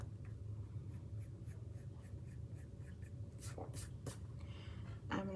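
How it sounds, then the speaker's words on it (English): Pencil sketching on paper, a quick series of light scratchy strokes in a steady rhythm, close and quiet over a low background hum, with a few sharper strokes near the end and no speech. "I'm doing a lot of sketching here"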